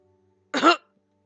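A single short cough from a character in the visual novel Collar X Malice, close and clear, lasting about a quarter second against silence.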